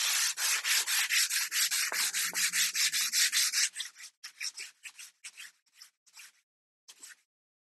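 Steady rhythmic rubbing of 220 grit sandpaper by hand across a wooden fretless bass fingerboard, about a dozen even back-and-forth strokes, then slower, shorter scrubs with pauses, close and alone.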